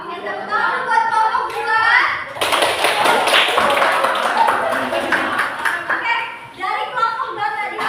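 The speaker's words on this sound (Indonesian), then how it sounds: "tepuk tangan buat kelompok 2" Classroom applause for a student group during a teaching practice lesson, a burst of many hands clapping that swells for a few seconds, with children's voices talking before and after.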